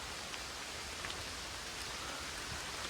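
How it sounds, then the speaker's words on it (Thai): Heavy rain pours steadily in a dense, even hiss, with no voices over it. "ตอนนี้ฝนตกหนักมาก ๆเลยอะ่ะ"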